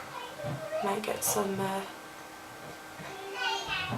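Children's voices chattering in a room, with someone talking nearby amid faint background household noise.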